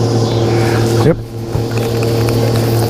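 Motorboat engine droning steadily as the boat motors down a lake, with a brief dip and a knock partway through; loud and close.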